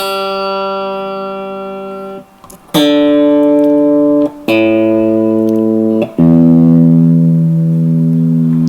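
Squier electric guitar strings plucked one at a time while checking standard E tuning, each note ringing clearly and sustaining for a couple of seconds before the next, four distinct tones, close and loud with no talk.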